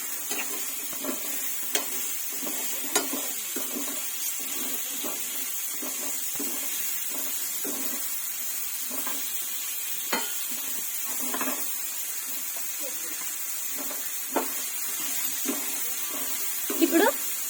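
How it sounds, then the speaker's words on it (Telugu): Bitter gourd stirred into browned onions frying in a pan, with repeated scraping and clacking strokes over a steady close sizzle. "ఇప్పుడు కాకరకాయ వేసేద్దాం. ఇప్పుడు అన్నీ ఒకసారి మిక్స్ చేసుకుంటే"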